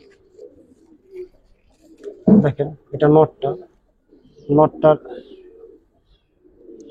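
Giribaz pigeons in a loft coo in a few throaty bursts close to the microphone while someone talks softly over and between them.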